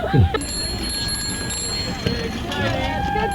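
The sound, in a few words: child ringing a bicycle bell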